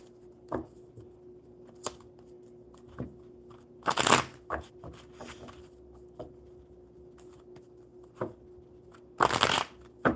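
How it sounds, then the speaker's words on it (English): Tarot cards being shuffled by hand at a table, a series of sharp riffling bursts and soft slaps at irregular intervals, close and clear with quiet gaps between, no talking. "Get them shuffled up really good."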